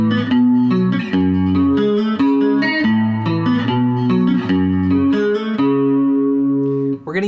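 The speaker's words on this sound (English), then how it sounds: "The first part we're gonna learn is that main riff that sounds like this." Electric guitar plays the main riff, clean ringing add9 arpeggiated chord shapes in a steady repeating pattern, loud and close, with no talk over it.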